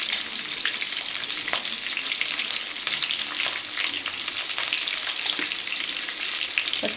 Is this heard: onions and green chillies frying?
yes